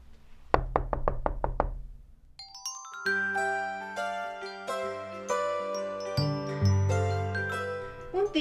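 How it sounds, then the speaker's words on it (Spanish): Six sharp knocks on a door open a children's story, evenly spaced and close, followed by a bright tinkling, chiming melody that builds into a fuller musical passage. "una bola de animales a la puerta toca"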